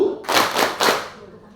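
A group of people claps together in the Tepuk Sholat clap chant at a teachers' training session in Bantul: three quick loud bursts of clapping, close and unaccompanied by voices.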